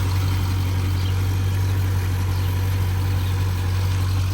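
A 2024 Dodge Durango SRT 392 with its 6.4-liter V8 idles steadily, a deep constant rumble close by with no talk over it.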